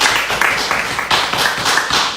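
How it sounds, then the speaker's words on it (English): A crowd claps for political rally organizers, producing loud, dense, continuous applause nearby that swells in slight waves across the short stretch. "Please give the round of applause to the organizers"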